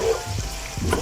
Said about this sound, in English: Our onions have started frying.